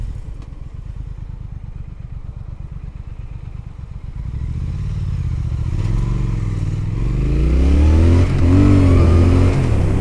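A 2018 Triumph Thruxton R motorcycle pulls away on a London road in sport mode, starting with a low rhythmic idle and then rising into a loud, close engine note as it accelerates hard through the gears.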